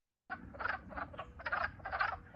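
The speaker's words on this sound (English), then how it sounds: "I can measure my spring mornings by the calls of the wood frogs" Wood frogs call in a quick series of short, duck-like croaks, four or five bursts close together, clear against a quiet background.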